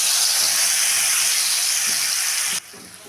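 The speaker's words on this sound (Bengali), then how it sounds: "দিয়ে দিলাম মশলার পেস্টটা" Spice paste of cumin, coriander, turmeric and chilli powder sizzles hard in hot oil, a loud, steady frying hiss that cuts off abruptly near the end.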